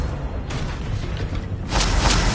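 A Confringo fire spell in Hogwarts Legacy bursts with a loud, broad whoosh and boom near the end, following a softer rumbling stretch of spell combat, with no talking.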